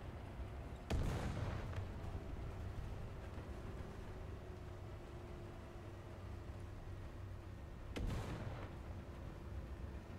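A tank in a first-person shooter video game fires two distant heavy booms about seven seconds apart over a low rumbling engine drone, faint and far off.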